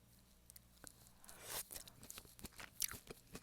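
Close crunching and chewing of roasted cabbage and potatoes, a run of irregular crisp bites and mouth sounds, quiet and near with no talk.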